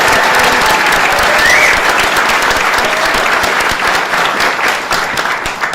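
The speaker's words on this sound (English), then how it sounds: "Big round of applause to Jim Otto, the next Borough President." Audience at a Staten Island government announcement breaking into loud, sustained applause, dense clapping that continues steadily for several seconds.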